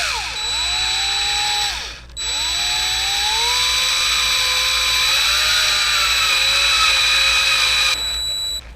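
A power drill whines steadily at close range, drilling into a block of wood during a Nissan 350Z oil cooler install, its pitch rising as it bites, with a brief pause before spinning up again.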